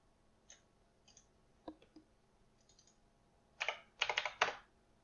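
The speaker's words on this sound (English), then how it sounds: "I'm going to type in the word nothing just so we can tell there's nothing in there." Keys on a computer keyboard are tapped in a few sparse clicks, then a quick cluster of louder, close keystrokes near the end, in a quiet room with no talking.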